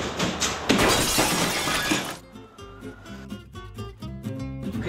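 Fragile glass shattering in an art gallery, a loud burst of breaking glass for about two seconds, then tinkling pieces settling and ringing more faintly afterward.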